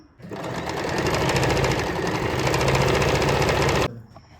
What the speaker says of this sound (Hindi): तो चलिए इसमें मैं पूरे में एक सिलाई लगा लेती हूँ।